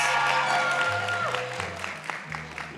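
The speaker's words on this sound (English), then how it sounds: "This is your chance to cheer. You got to cheer. You got to say, yeah!" An audience at a public speaking contest cheers and claps, a moderate crowd sound with scattered applause that fades slightly toward the end, with a voice over it.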